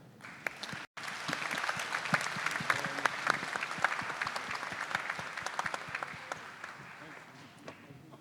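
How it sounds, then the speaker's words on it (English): A ceremony audience at a peace prize gala applauds honorees with sustained, dense clapping that holds steady for several seconds before gradually thinning out near the end. "Let us please give a round of applause for this year's prominent peacemakers of the world."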